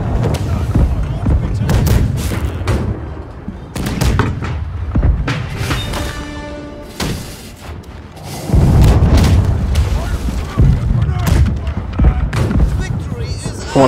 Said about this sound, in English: Keep shooting right side